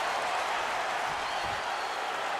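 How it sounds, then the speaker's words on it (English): Crowd noise at a digital pro wrestling video game event: a dense, steady roar of cheering and yelling that holds at an even level throughout, with no distinct voice standing out. "The crowd now yelling, "We're not worthy.""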